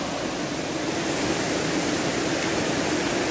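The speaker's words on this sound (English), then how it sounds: "That river is raging." Raging whitewater river in the Smoky Mountains, a steady, dense roar of rushing water that stays loud and unbroken throughout, with no voices over it.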